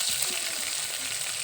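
Food, likely cutlets or patties, frying steadily in hot oil, a dense continuous sizzle with crackling that stays close and even throughout, with no voices.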